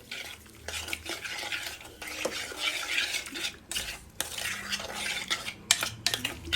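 Raw shrimp filling being stirred and mixed in a bowl for a fried snack, with a steady scraping and clinking of a utensil against the dish, close and continuous with no talk.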